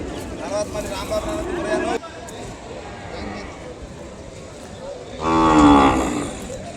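An Ongole calf moos loudly and near at a cattle market, one drawn-out call rising late, with background voices and chatter beforehand.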